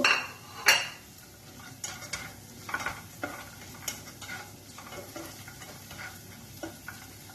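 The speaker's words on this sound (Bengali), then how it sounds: "এবার কাজু ভেজে নিব" Cashews frying in a pan for flattened-rice pulao: a light sizzle under sharp metal spoon clinks and scrapes, with louder knocks at the start and intermittent stirring throughout.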